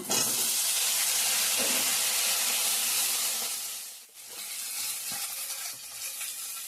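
Potatoes and cauliflower sizzle steadily in a pan with cumin and crushed ginger. The hiss is loud and broadband, dips briefly near the end, and then picks back up.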